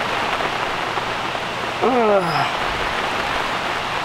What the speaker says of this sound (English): it's storming and raining